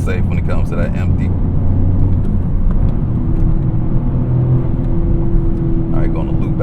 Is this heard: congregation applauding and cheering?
no